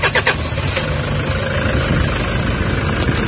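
A Toyota HiAce van engine, in neutral with a check-engine light and low-power fault, idles loudly and roughly, with a heavy, shuddering low rumble that stays steady throughout.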